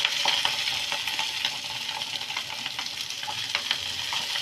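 Noodles fry in a pan with a steady, close hiss while vegetables are stirred through them, and faint utensil scrapes and clicks come up now and then over the constant sizzle.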